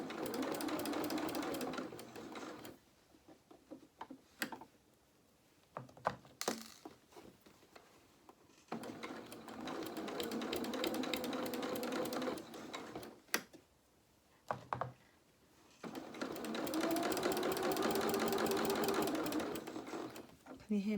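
A sewing machine stitches fabric for small doll dungarees in three long runs of rapid mechanical whirring, separated by quieter gaps with clicks and handling. Someone talks softly between and over the runs.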